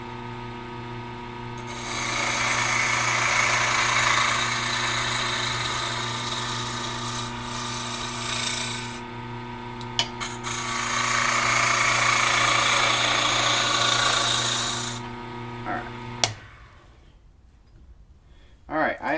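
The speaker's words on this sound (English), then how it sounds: "Alright, I have turned down the square, and now I've got a cylinder." A wood lathe turns a square wooden blank down into a cylinder, a steady loud rasping hum with tool scraping that dips briefly midway, then cuts off, leaving near silence.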